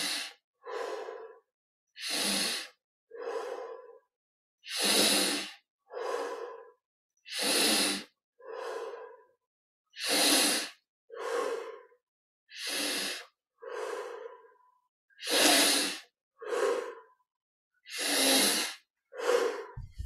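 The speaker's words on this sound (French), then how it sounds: "20 respirations profondes." Slow, deep breaths during a guided meditation, each long inhale and exhale separated by short silences in a steady, repeated rhythm, close and clear with no talking.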